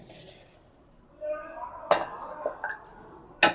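Mango pulp scraped into a mixer jar while making mango lassi, with soft scraping, then a few sharp clinks of a spoon against the jar, spaced apart and moderately loud.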